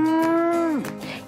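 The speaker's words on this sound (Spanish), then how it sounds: "Y esta es una vaca." A cow lets out a single loud, close moo that holds steady for most of a second before sliding down in pitch and trailing off.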